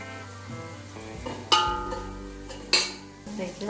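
Konkani spice mix and chili powder stirred in a pan for a Chiplun village chicken meal, heard as soft scraping with two sharp spoon-on-pan clanks, close and fairly quiet with no talk.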